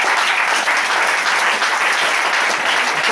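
A church congregation applauds in a steady, dense wave of clapping that stays loud and even throughout, with no break and no speech over it.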